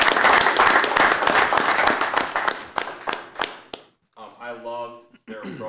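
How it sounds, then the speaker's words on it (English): Warm applause from the audience at a Grafton School District board meeting, thick at first and thinning into a few last claps over about three seconds, then stopping; a person begins speaking after a short pause. "I'll give him a round of applause."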